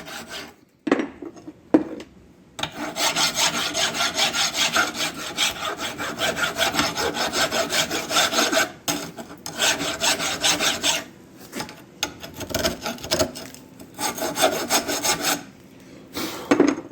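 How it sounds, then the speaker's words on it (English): Brake caliper brackets from a 2003 Dodge Dakota are hand filed, long rough rasping strokes in sustained runs broken by brief pauses and a few metallic clinks, close and loud. "we're going to get some files, and we're going to file this crap all out of here"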